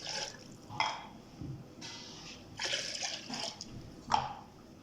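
Water is poured in several short splashing bursts into a juicer holding yogurt for lassi, quiet and close, with brief gaps between pours.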